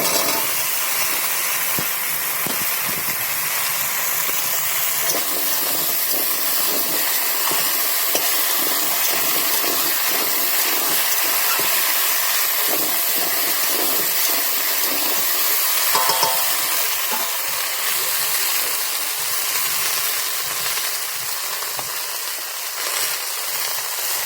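Taro and potato being sautéed with fried onion in a pan for a Bengali fish curry, a continuous hissing sizzle with soft stirring scrapes, steady and close.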